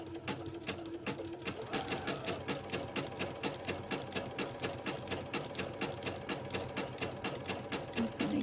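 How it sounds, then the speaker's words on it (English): A sewing machine runs steadily, stitching a zigzag seam across pages of an 8x8 mini album; a fast, even mechanical chatter holds close and loud throughout without a break. "I'm using a zigzag stitch. I'm going to try to keep it as straight as I can."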